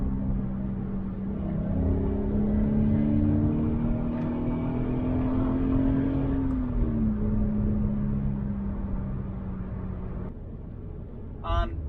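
A Subaru BRZ/Toyota 86 engine droning steadily from inside the cabin after a downshift to third on a backroad, the tone rising gradually, then easing off as the revs fall, with a brief click near the end.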